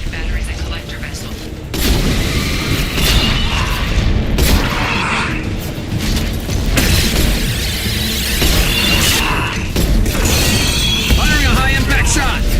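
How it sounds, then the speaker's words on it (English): Heavy anti-ship battery fire aimed at a Collector vessel in Mass Effect 2, with loud, dense booming blasts that continue through a sustained battle din after a quieter opening. "Anti-ship batteries at collector vessel."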